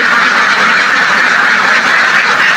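Loud, dense quacking from a flock of egg-laying ducks, many birds calling at once without pause, close by and with no talk over it.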